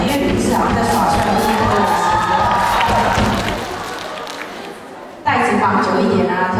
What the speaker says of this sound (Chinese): 这种时候是不是先给点尖叫声呢